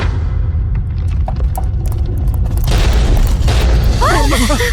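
A loud boom as a statue shatters erupts into a rumbling, crackling burst that lingers, with a voice speaking briefly underneath near the end.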